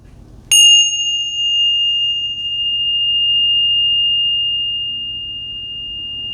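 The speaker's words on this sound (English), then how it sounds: "Gonna ring the bells." A single bright bell strike rings out, then its clear metallic tone sustains and slowly fades over several seconds against quiet background.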